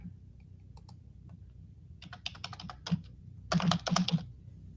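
Quiet bursts of clicking keystrokes on a computer keyboard, starting sparse and picking up into quicker, louder clusters of taps near the end, with faint background hum between.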